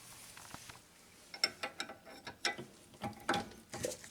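Torque wrench clicking and ratcheting while tightening a control arm bolt on a Honda Accord during a bushing replacement, a series of sharp close metallic clicks coming in irregular bursts with no talking.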